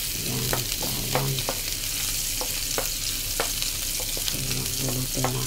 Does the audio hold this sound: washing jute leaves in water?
no